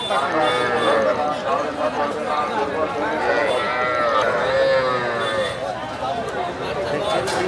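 Cattle and young calves low and moo at Dhaper Hat livestock market, with their calls rising over dense crowd chatter and people talking nearby, in a continuous, busy din.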